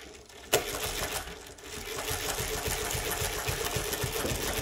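A Mauzer chainstitch sewing machine stitches with a rapid, steady mechanical clatter after a sharp click at the start, running close and continuously with no talk.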